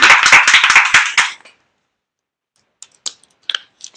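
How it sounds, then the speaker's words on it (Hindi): A short burst of brisk hand clapping from a small group, close and loud for about a second, then silence broken by a few scattered single claps. "ताली बजाओ इनके लिए।"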